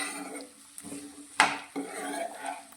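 Sliced okra is stirred into a hot pan of spices, with a metal spoon scraping and clinking against the pan, one sharper knock midway and a faint sizzle underneath.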